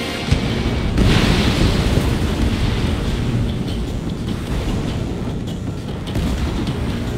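A missile launches with a loud, sustained roaring rush that begins with a sharp burst and holds steady for several seconds, broad and booming like a powerful exhaust blast.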